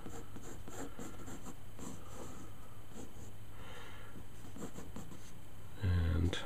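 A pencil scratches across paper while sketching a demon dog, soft intermittent strokes close up, faint under light background hiss, with a brief louder bump near the end.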